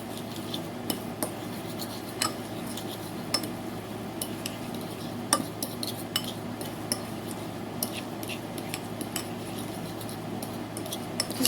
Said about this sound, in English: Just a dash more mustard. Let's give that a stir.